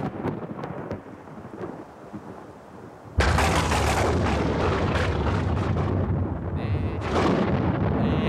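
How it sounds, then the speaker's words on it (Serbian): A loud crack of thunder breaks in suddenly and rolls into a long, heavy rumble, following a quieter stretch with a few faint taps. "Slušaj kako grmi."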